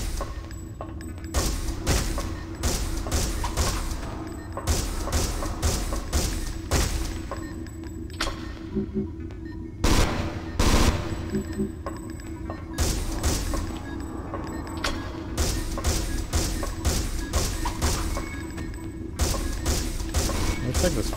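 Automated gun turret firing in the video game Alien Resurrection, with rapid bursts of mechanical gunfire repeating in clusters over a low rumbling background, separated by brief pauses.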